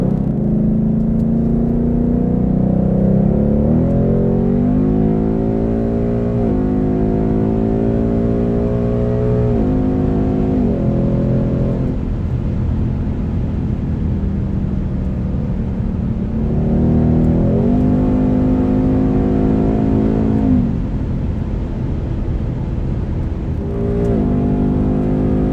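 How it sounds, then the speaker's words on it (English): Ford Mustang GT V8 pulling hard on a small back road, heard from inside as the engine climbs steadily through revs, shifts, and climbs again in long loud surges without talking. "So let's listen to the Mustang do its thing on this little back road here."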